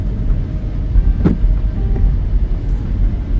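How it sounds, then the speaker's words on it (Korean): A Hyundai Tucson in four-wheel drive rolling along a slippery snow-covered road, heard as a loud, steady low rumble of engine and tyre noise inside the car, with no talk. "눈길을 계속해서 달려보겠습니다."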